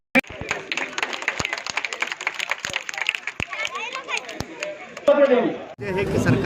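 Audience applause with crowd chatter at a political event in Dhar with the state industries minister present, steady clapping for several seconds with talk over it, ending with a louder burst of noise.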